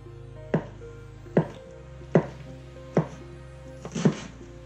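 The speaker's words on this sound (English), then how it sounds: "I'm going to chop an onion" Five sharp knife strikes on a cutting board as an onion is chopped, evenly spaced about once a second with the last two close together, near and clear over a low steady kitchen hum.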